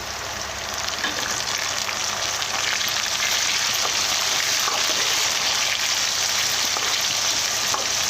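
Tomato pieces frying in a pan, a loud, steady rain-like sizzle that swells after the first second and holds evenly to the end, close by with no voices.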